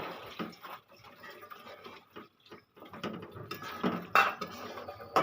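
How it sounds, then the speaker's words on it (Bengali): Bitter gourd and prawns being stirred in a pan, giving scraping, clinking utensil sounds against the metal in short irregular bursts, close and fairly loud, with no talking. "আমি একটু নেড়ে নেব"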